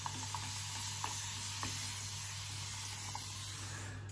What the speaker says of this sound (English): Best have another spray because that's dried out.